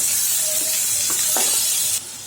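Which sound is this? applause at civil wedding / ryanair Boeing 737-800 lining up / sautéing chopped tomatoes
sautéing chopped tomatoes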